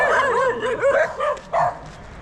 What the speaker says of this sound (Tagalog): daming aso mga master.